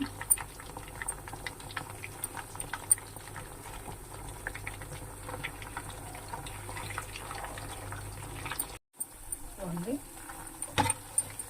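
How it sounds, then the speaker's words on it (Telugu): Toothpick chicken pieces fry in hot oil toward golden, a dense continuous crackle and bubble running close and steady, broken by a brief dropout near the end and a faint voice in the background. "గోల్డెన్ వరకు ఫ్రై చేసుకోవాలండి"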